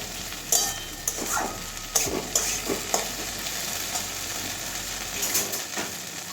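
Shrimp frying in a pan with garam masala, a steady soft sizzle under intermittent scraping clicks of a spatula, close by, no voices.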